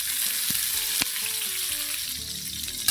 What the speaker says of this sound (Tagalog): Manggigisa na tayo. Lagay tayo ng bawang, sibuyas,